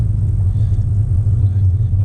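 A car creeps slowly in first gear along a tight residential road on a driving test route, giving a steady low engine rumble heard from inside the cabin, loud and continuous with no talking.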